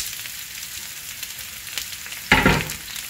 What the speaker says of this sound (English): Now we're going to saute this until it gets green.